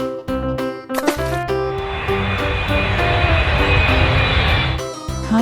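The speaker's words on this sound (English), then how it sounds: "Airplane." An airplane roars past with a loud, steady jet-like whoosh that holds for several seconds and then cuts off, after a brief musical jingle, with no talk.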